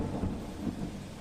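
Heavy unseasonal rain driven by strong wind in Bhavnagar, Gujarat, a dense steady roar of downpour with low gusty rumble throughout, no voices.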